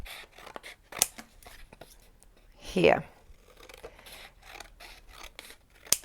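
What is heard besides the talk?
scissors cutting paper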